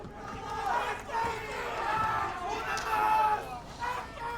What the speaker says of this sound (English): And you hear it from the crowd, uno más.